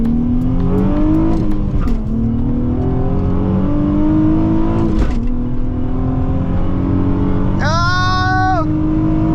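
Nissan 350Z engine revving hard and climbing through gears on an open road while racing a new Honda Accord, loud and close throughout, with a brief high whine near the end.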